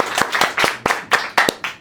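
Audience clapping at a Monday Show stage event for Indonesian Independence Day, a few close hand claps in an irregular rhythm rising into brief scattered applause, with no talking over it.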